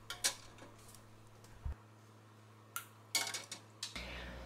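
Glass canning jars of pineapple are set into a canner, producing scattered clinks and knocks: two early taps, then a cluster of rattling glass contacts near the end, with a low hum in the background.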